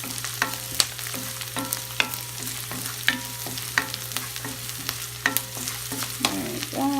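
Chicken in tomato sauce stirred in a pan on a medium stove, a spoon scraping in steady repeated strokes over a continuous low sizzle and hum.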